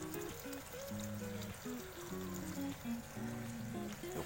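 Water drains out of a bucket-style tilapia rearing tank as a faint, continuous trickle and pour, quiet and unbroken, with no voices over it.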